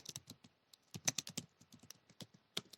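Fingers type on a computer keyboard while Python code is written, quick clusters of close, crisp key clicks in uneven bursts with short pauses and no talking.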